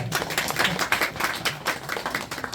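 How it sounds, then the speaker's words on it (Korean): Audience clapping at the opening ceremony of a children's song archive storage room, a lively round of applause with distinct hand claps, close and steady for a couple of seconds with no talk. "박수 한번 한번 부탁드릴게요"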